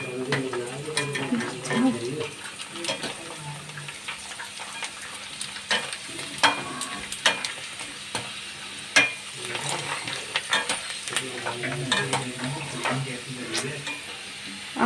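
Golgappa puris deep frying in hot oil for street-style pani puri make a continuous bubbling sizzle, punctuated by scattered clicks and scrapes of a slotted spoon and utensils, with intermittent speech nearby.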